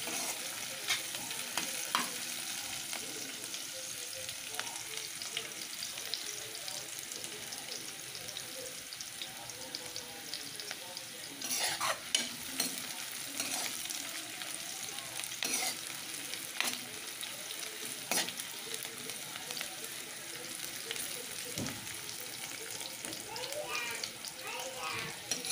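Onions frying in a pan with cabbage for noodles, a continuous close sizzle punctuated by stirring scrapes and clinks, with a voice talking over parts of it.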